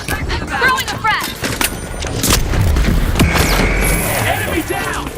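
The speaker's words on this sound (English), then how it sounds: "Throwing a frag!" A frag grenade goes off in the shooter game The Finals, a heavy, rumbling boom rolling out amid clattering gameplay effects, with voiced call-outs over the action.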